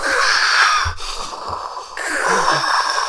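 Darth Vader's mechanical respirator breathing from a Star Wars trailer: a loud, hissing inhale and exhale with a short break between, then a second rasping breath, close and steady.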